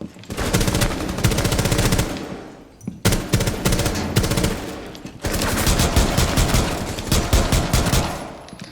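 Rapid automatic gunfire from Rainbow Six Siege, loud sustained bursts broken by short pauses, with fast rattling shots repeating in three long volleys.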